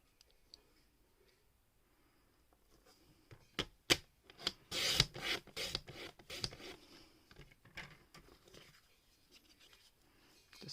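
Paper being trimmed with a cutter for a handmade paper lantern, a burst of quick sharp clicks and scraping strokes in the middle, quiet before and after.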